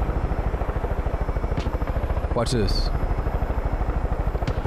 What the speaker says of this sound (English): This is the best helicopter I've ever seen.